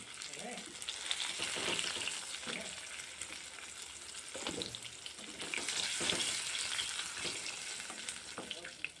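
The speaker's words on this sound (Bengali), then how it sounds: "মাছগুলোকে সুন্দর করে লাল লাল করে ভেজে তুলে নেব" Pieces of catla fish frying in hot oil, giving a steady, close sizzle with crackling spits and occasional scraping clicks of turning the fish, without voices.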